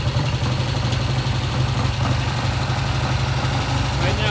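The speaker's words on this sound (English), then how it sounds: "Right now it's idling," A vintage British motorcycle engine idles close by, slightly high at about 1100 RPM, with a steady, low, throbbing rumble that holds an even pace throughout.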